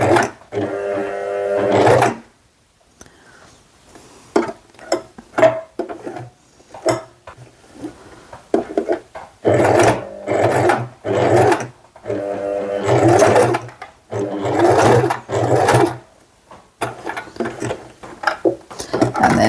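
Sewing machine stitching along a bag strap, running forward, reversing and going forward again, in several bursts of close whirring separated by short pauses and handling clicks.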